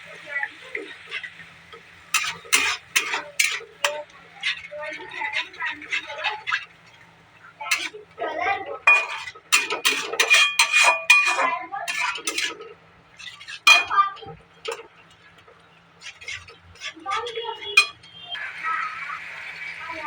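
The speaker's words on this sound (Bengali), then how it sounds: "দইটা দিয়ে আমি খুব সুন্দর করে মশলাটা কষিয়ে নিয়েছি।" A spoon scrapes and clinks against a pan while yogurt and spices are stirred for bhindi curry, with irregular metallic taps and scrapes throughout and a faint low hum beneath.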